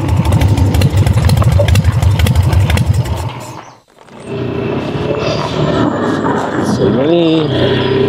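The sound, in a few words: broken-down motorcycle engine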